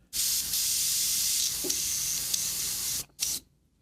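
A steady, close hiss of an airbrush spraying paint runs for about three seconds, cuts off, then gives one short final burst.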